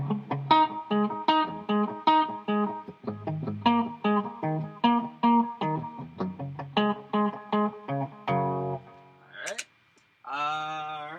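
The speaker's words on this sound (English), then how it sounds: "clean sound. Put a little bit of compression to help that out." Clean electric guitar through a Line 6 Firehawk FX with compression, picking a steady run of even, compressed notes and chords, ending with a short bend and a brief sustained phrase.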